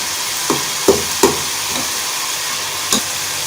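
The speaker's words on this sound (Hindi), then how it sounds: "मसाला भून चुका है, टमाटर थोड़े से मैश कर लेते हैं।" Masala with tomatoes frying in a pan while being mashed with a spoon, giving a steady soft sizzle and a few distinct scraping knocks of the utensil against the pan, close and moderately quiet, no voices.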